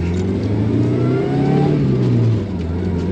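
A vintage 4WD Toyota Sunrader with a supercharged 3RZ engine pulls under acceleration, a loud steady mid-pitched engine drone rising in pitch then easing off, heard from inside the vehicle.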